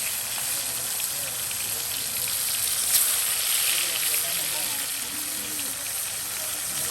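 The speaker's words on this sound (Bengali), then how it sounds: "এই যে এখন আপনার সেই মাছের ডুমাগুলো সুন্দর করে ভেজে নেওয়া হচ্ছে" Pieces of rita fish frying in hot oil on a stove, a steady soft sizzle with crackling flecks that runs throughout, moderately close.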